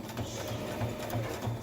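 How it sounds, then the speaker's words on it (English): A sewing machine zigzag stitches a folded fabric edge, its rapid mechanical chatter running steadily and fairly quietly with a regular pulsing rhythm of the needle. "and then it is simply zigzag stitched"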